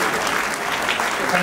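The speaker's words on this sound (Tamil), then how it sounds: "இவர்களுக்கு ஒரு பெரிய நம்ம பாராட்டலை கைத்தட்டு மூலமாக நம்ம கொடுக்கணும்." An audience at a Tamil awards function applauds, dense steady clapping from many hands filling the whole moment, loud and close.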